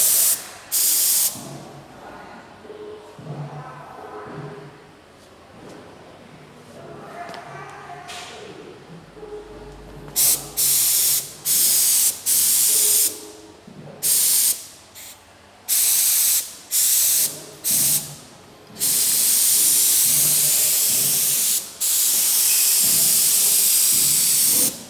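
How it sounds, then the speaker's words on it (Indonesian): A spray gun applies top-coat paint to a car body, giving loud hissing bursts: a long continuous spray, then a series of short on-off blasts, and finally a sustained hiss, with a muffled voice now and then between passes. "Setelah spray gun sudah oke, kita lanjutkan aplikasi top coat"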